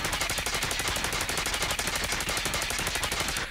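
Dingo light machine gun fired in COD Mobile, one continuous rapid burst of evenly spaced shots at close range lasting the full few seconds, with no talk.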